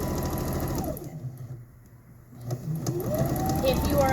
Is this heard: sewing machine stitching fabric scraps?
yes